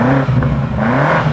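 A BMW M5 G90 revs its engine outdoors in a short, loud burst with a rising and falling pitch, with no talking.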